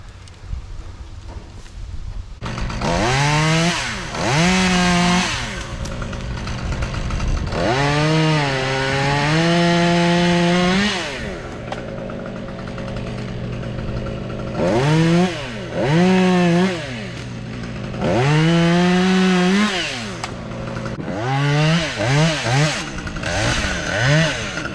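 Chainsaw making drop cuts while felling a tree, its engine revving up and down in a series of loud, close bursts, with a steady idle drone between cuts.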